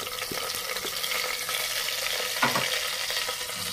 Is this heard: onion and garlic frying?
yes